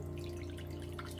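Apple cider vinegar is poured into a glass as a soft, brief liquid trickle over a faint steady hum, quiet and close.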